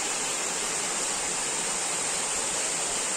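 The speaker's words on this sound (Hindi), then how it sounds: "देखिए उस झरने को, देख सकते हैं इस झरने को" A forest waterfall roars as a steady, loud, unbroken rush of falling water, with no talking.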